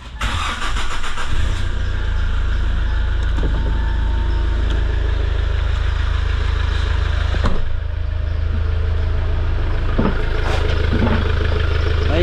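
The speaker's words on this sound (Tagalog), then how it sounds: "Maingay lang yung andar kasi inalis namin yung intercooler na." A Hyundai Starex with a D4CB diesel engine, intercooler removed and suffering low power, idles loudly with a deep, steady rumble and a noisy clatter after a rough start, a few clicks and knocks breaking through.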